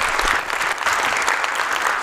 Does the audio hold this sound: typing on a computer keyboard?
no